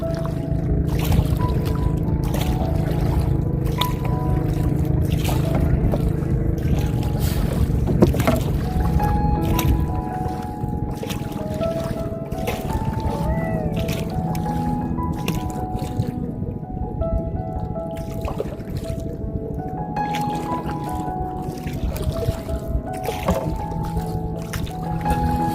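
A motorboat comes closer across open water with a steady, loud engine drone, washed by wind and water noise throughout.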